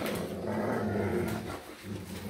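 A dog growls low and steady while playing indoors with a handmade denim bone toy, the rumbling close and continuous, easing briefly toward the end.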